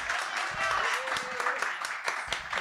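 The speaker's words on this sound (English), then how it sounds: "if we could give a nice round of applause for our host today, Amanda Brown Lierman." Audience applause welcomes the host at a political candidate forum, a short burst of clapping mixed with a voice speaking over it.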